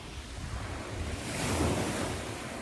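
Sea waves on a beach, a broad wash of surf swelling and receding with wind buffeting the microphone, rising to a louder surge midway, no voices.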